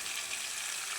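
Chopped vegetables with carrot frying in a pan, a steady soft broadband hiss of sizzling oil running evenly throughout without pauses, close by and moderately quiet.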